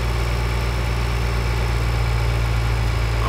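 A tractor engine idles steadily in Farming Simulator 2013, a loud, constant low rumble with an even mechanical throb and no breaks.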